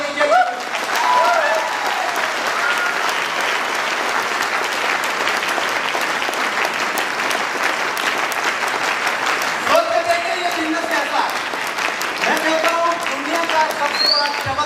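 A crowd at a motivational business event gives sustained applause, steady dense clapping throughout. A voice speaks over it partway through.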